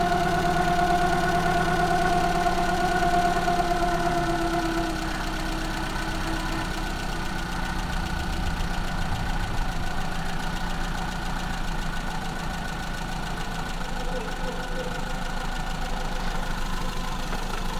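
A Maruti Zen car engine with a carburetor just tuned idles at about 900 RPM, a steady close mechanical hum with a light ticking knock that runs evenly throughout, no voices.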